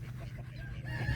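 Farm chickens cluck in a short burst, low and close, with a steady hum and a faint rising note near the end.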